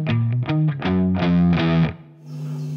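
Distorted electric guitar picks a slow Phrygian riff, several separate heavy chords and notes spaced by short gaps, then a final chord rings out and fades, loud and close with no talking.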